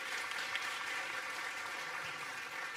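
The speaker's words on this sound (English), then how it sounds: "A round of applause, please, for our panelists." A conference audience applauds its panelists at a forum session, a soft, steady wash of many hands clapping that holds evenly throughout without voices.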